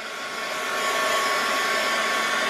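A hair dryer blows on shimmer paint on card, a steady loud whooshing hiss that holds for the whole stretch with no voices.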